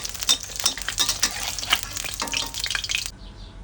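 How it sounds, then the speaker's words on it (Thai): Eggs fry in oil in a pan, giving a close, crackling sizzle with bursts of popping and spattering that cut off abruptly near the end. "ทอดไข่รอก่อนเลยค่ะ"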